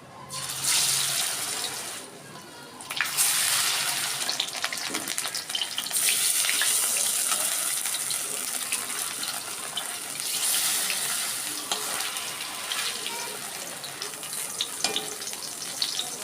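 Rice-flour-coated stuffed ash gourd pieces fry in hot oil with a loud, dense, continuous hiss that swells and dips slightly over a long, unbroken stretch.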